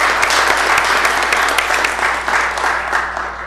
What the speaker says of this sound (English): So a round of applause for our sisters.